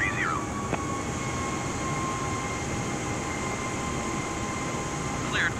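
An Airbus A320neo in a flight simulator game runs a steady, dense engine rumble and whine on the takeoff roll, constant and fairly loud, with brief radio chirps.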